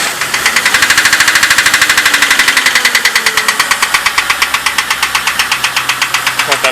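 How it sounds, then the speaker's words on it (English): An idling car engine with suspected bad lifters or a failing oil pump ticks in a rapid, even, loud clicking rhythm close up over the engine's drone, with brief faint talk in the background. "I still hear the clicking of it."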